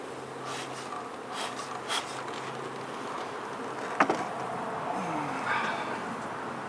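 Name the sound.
many honeybees buzzing around a hive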